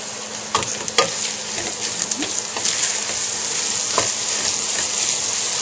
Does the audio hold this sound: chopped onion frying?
yes